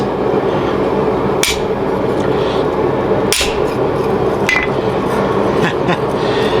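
A hammer strikes a chisel against a metal spatula blank, giving a few sharp, ringing metallic hits spaced irregularly over a steady background hum.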